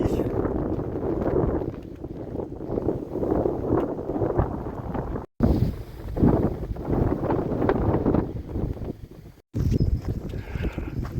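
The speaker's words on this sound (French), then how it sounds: "Le vent a forci." Strong wind buffets the microphone in heavy, gusting rumbles while someone walks outdoors, loud and close, with brief dropouts between gusts.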